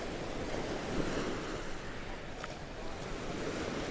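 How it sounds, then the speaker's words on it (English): Sea waves wash in and draw back over the pebble beach at Brighton, a steady full rush of surf with wind noise buffeting the microphone. "Instead of the waves coming back up and then going back down. And all the pebbles"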